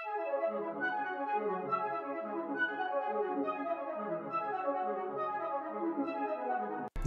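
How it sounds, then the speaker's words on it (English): The arpeggiated Maniac synth preset from Analog Lab, played dry with effects switched off, cycles in bright repeating note patterns that rise and fall steadily for several seconds, alone and up close. "This one is an arpeggiated preset actually."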